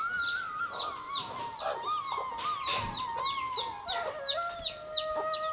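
A flock of chickens in a coop behind a house clucks continuously, with repeated short calls and a few higher squawks layered over a busy, moderately close background.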